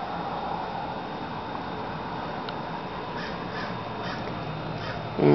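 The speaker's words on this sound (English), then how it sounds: "Look at the crows." Several crow caws ring out in the distance over a steady background hiss, spaced a second or so apart.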